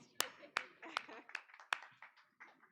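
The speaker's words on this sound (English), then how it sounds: "I'm clapping for you first" At a graduation ceremony, a few sharp, separate hand claps ring out near the microphone in an uneven rhythm, fading toward the end, with faint speech-like sound between them.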